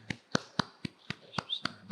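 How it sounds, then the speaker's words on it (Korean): Congregation at a Sunday worship service clapping in unison, eight sharp, evenly spaced claps in a steady rhythm, close and distinct with brief quiet gaps between. "다시 한번 하나님께 영광의 박수를 올려드리겠습니다."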